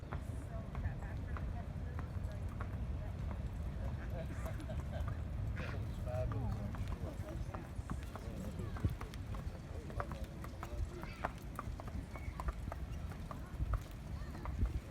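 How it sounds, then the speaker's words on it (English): Horse pulling a buggy past a walking path near a mansion, hooves clip-clopping in a steady rhythm at moderate distance over outdoor ambience and background chatter. "I'm gonna turn around so you can see a horse and buggy."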